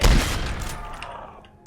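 A loud burst of gunfire from the Dead Rails Roblox game, a heavy booming blast that decays over under two seconds with a few faint trailing pops.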